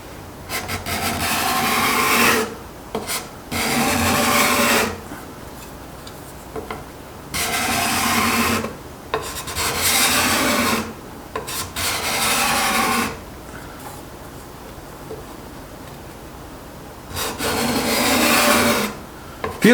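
A Sandvik card scraper drawn across wood lifts shavings in repeated rasping strokes, about eight bursts of two to three seconds each separated by short pauses, close and fairly loud with no talking.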